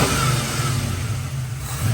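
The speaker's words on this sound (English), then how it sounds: "Hear the cam really well, and it is revving up awesome." A 1970 Ford F-100 bumpside pickup with a Crown Vic engine swap and a 600 CFM FST carburetor revs loudly and close up, its deep engine note rising and holding steady for about two seconds with no talk.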